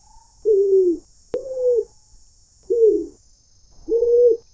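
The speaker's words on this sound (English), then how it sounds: "So what do you pigeons say?" Four low, rounded cooing calls from a pigeon, evenly spaced and fairly close, with a faint steady high tone and a sharp click between the first two.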